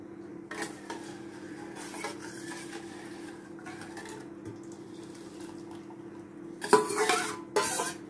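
Jaggery is added to milk in a metal pot and stirred, scraping and clinking softly against the sides, then sharper clattering bursts near the end, with no talk.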